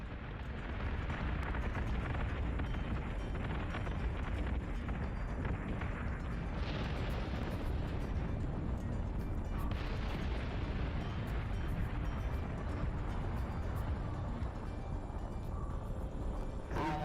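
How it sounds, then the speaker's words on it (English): Forward guns of the Battlestar Galactica firing on Cylons in a space battle game, a dense, loud, continuous roar of rapid booming blasts that barely lets up throughout. "Forward guns on target."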